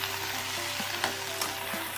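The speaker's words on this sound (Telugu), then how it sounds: "ముందుగా మనం కట్ చేసి పెట్టుకున్న ఈ బెండకాయ ముక్కలన్నీ వేసుకోవాలి" Cut okra pieces sizzling steadily in hot oil in a pan, a dense, even crackle close up with a few faint stirring taps.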